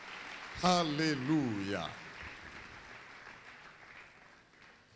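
Church congregation applauding: after a single voice calls out loudly, a soft, steady wash of clapping spreads through the room and lingers faintly in the background until the end.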